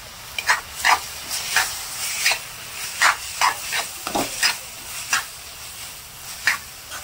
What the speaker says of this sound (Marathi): आता हे सर्व गोष्टी मिक्स करून घेऊया व्यवस्थित